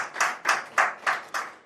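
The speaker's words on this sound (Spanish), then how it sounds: "Dale un fuerte aplauso al Señor" A church congregation claps in unison, five distinct, evenly spaced claps in a steady rhythm at moderate loudness, with no talking over them.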